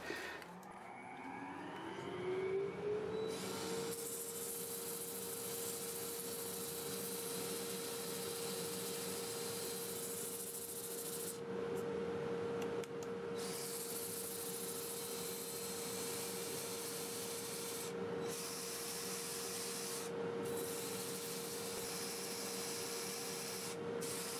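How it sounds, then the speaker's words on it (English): Steady abrasive whirring of a 120-grit, 2-inch sanding disc against black locust wood spinning in reverse on a lathe at about 400 RPM, with a constant motor hum underneath, continuous and close throughout. "I'm going to start with 120 grit, 2-inch disc, lathe running in reverse at about 400 RPM"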